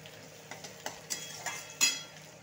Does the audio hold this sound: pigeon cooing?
no